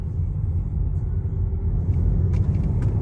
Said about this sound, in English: this is my first time actually driving a twin turbo diesel X5